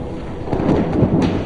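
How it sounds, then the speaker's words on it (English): Thunder from lightning rolls as a loud, deep, continuous rumble with low crackling texture, close and heavy throughout the short stretch, with no voices. "Lightning is all around us, a natural force of almost unbelievable power."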